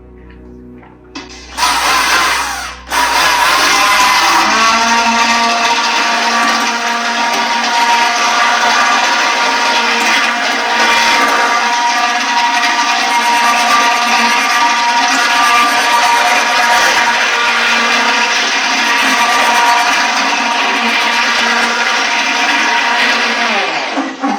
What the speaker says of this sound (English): Now I've got my immersion blender and we're going to start to mix